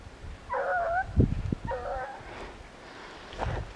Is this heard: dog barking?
yes